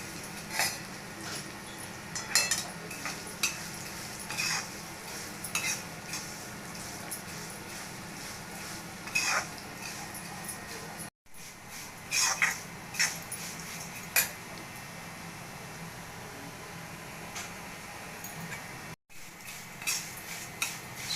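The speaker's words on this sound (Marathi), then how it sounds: "शेवया घेतले आता मस्त तुपावर लालसर भाजून घ्यायच्यात" Vermicelli roasting in ghee in a pan, scattered light scrapes and clinks of a spoon against the metal as it is stirred, quiet and intermittent with short gaps.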